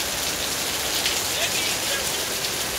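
Heavy rain pours down steadily at a market in Ghana, a dense, continuous hiss of drops drumming on surfaces close by, with no clear voices.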